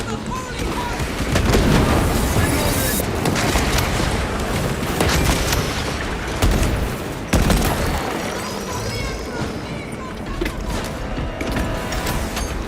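A crack grenade explodes amid continuous heavy gunfire and mechanical clatter in the video game Space Marine 2, loud and dense throughout, with sharp bursts standing out over the battle din.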